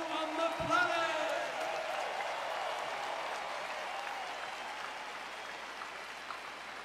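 An arena concert crowd in São Paulo applauds and cheers continuously, a broad wash of clapping with shouts on top that fades slightly over time.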